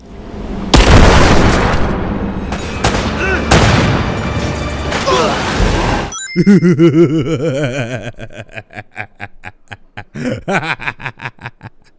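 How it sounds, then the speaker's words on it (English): Explosion effects in the video game Rise of the Tomb Raider: a loud, dense blast and rumble fill the first six seconds, followed by rapid, crackling pulses of chaotic game noise. "Explosion effects reminiscent of the first Uncharted game?"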